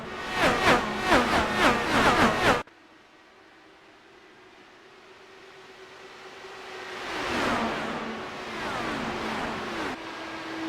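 Race cars at Indianapolis Motor Speedway accelerating at a green flag start: a loud burst of rapid engine pulses, then a quieter stretch as a rising engine roar builds and swells in the distance, with a second wave passing near the end.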